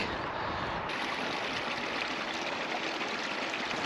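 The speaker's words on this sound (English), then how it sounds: "The sound of running water" Running water of a stream beside a busy road, a steady broadband rush throughout with constant traffic noise blended underneath.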